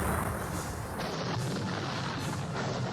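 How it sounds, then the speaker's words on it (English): Cannon fire in the Napoleonic Series battle game sounds as loud, overlapping artillery booms that keep up a continuous rumbling barrage with no voices. "I'm going to start off with some artillery fire"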